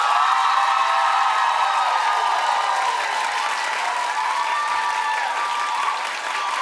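A television talk-show studio audience claps steadily for a poll, a continuous wash of applause mixed with scattered whoops and cheering voices.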